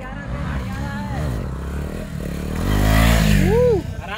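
During a group ride, a motorcycle engine revs for a stunt. The steady rumble swells louder toward the end while someone talks over it close to the microphone.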